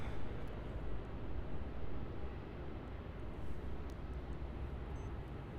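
A Jetstar Airbus A320-200 departing Melbourne Airport for the Gold Coast, taking off along the full length of runway 34, a steady broad jet engine roar heard from a distance that holds at an even level throughout.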